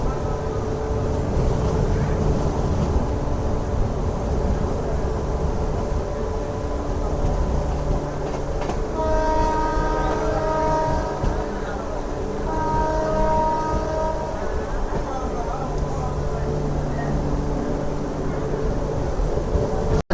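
A MEMU passenger train running from Renigunta to Kadapa in rain gives a continuous heavy rumble, heard from on board, and a horn sounds twice partway through with sustained tonal blasts.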